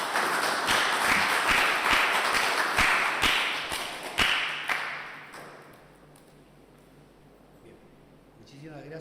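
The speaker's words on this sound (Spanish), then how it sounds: "Aplauso, por favor." Audience applause at a public justice forum in Concepción, with sharp individual claps over a dense clapping wash that fades out by the middle, leaving near silence before a faint rustle.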